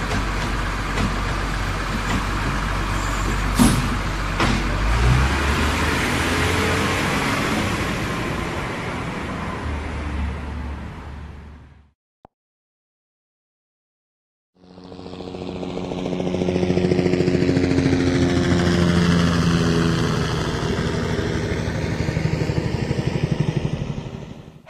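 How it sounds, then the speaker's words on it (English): A garbage truck lifts trash bins and compacts the trash: a loud, close diesel engine roar, a brief silent gap, then a rising and falling mechanical hydraulic whine over the running engine. "With a push of a button, the truck lifts the trash bins up. The trash is then compacted so all of it will fit."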